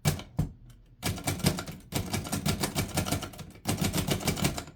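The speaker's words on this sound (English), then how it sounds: "you hear the kind of thump versus the regular typewriter clack" A 1937 Underwood Noiseless 77 portable typewriter is typed on in quick bursts, giving soft muffled thumps rather than sharp clacks, close up, with brief pauses between runs of keystrokes.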